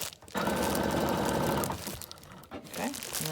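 A sewing machine stitches a fabric cover made from a bubble mailer in one fast, steady burst of about a second, then stops. Crinkling handling sounds follow.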